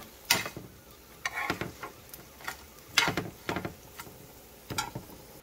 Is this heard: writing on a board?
no